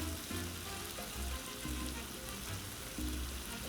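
Kung Pao chicken sizzles on a Blackstone 22-inch griddle, a steady dense hiss of frying with faint pops and low scraping, continuous and close throughout.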